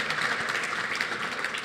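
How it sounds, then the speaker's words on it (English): A round of applause at a gala dinner and awards convention, a steady wash of many hands clapping in a large room, moderately loud and continuous with no individual claps standing out. "I think we can all agree and give a round of applause to that point."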